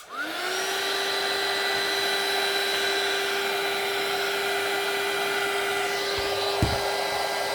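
A hair dryer blows steadily on crumpled newspaper being aged, a loud, constant close-up whir with a brief bump near the end.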